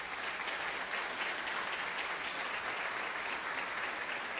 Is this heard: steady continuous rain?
no